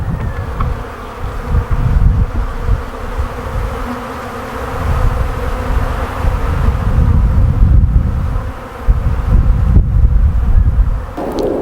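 Dense, steady buzzing of honeybees swarming close around a struggling split hive, a continuous insect drone with light wind rumble underneath and no talking.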